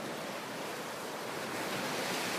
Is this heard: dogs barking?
no